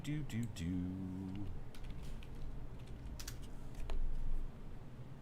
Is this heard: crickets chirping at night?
no